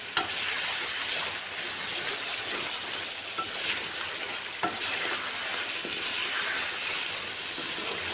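Chicken karahi sizzles and fries steadily in a pan while being stirred and sautéed, a continuous crackling hiss with occasional scraping clicks and no talking.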